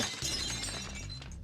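A glassy shattering effect from the Marvel Legendary game, a bright crash with tinkling fragments that rings out briefly and fades, heard alone.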